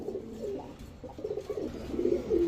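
Giribaz high-flyer pigeons, including American helmet birds, coo in soft, overlapping low murmurs close by, rising and falling in short throaty phrases with no one talking.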